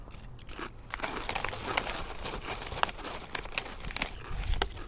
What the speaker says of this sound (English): Good crunch, obviously, as most Kettle chips will.